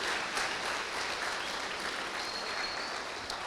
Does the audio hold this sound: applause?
yes